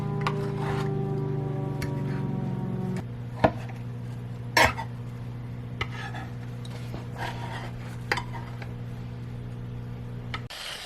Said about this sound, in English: We're gonna go ahead and take them out of the molds.